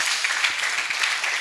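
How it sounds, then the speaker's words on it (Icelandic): Applause from an audience at a handball league press conference, a steady wash of clapping at moderate loudness with no other sounds above it. "við skulum bara klappa fyrir þessu"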